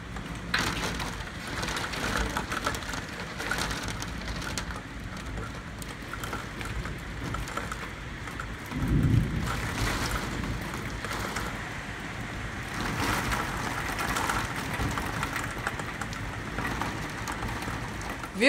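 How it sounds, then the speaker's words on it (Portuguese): Steady rain arriving and falling outdoors at a home, a continuous broadband hiss with no voices, holding fairly even throughout with a brief louder thump near the middle. "Olha a chuva chegando."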